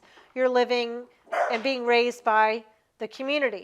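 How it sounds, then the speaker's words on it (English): A pet dog barks in a home setting, short yippy barks mixed in with and partly under a person lecturing, the voice continuing throughout. "So that's my dog barking."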